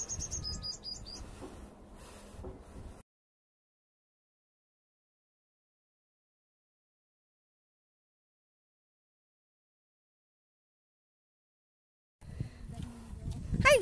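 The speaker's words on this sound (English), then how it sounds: "Can you hear the birds singing" Birds chirp and sing in short bursts in Khorfakan, with rustling background noise, broken by a long stretch of silence before more chirping returns.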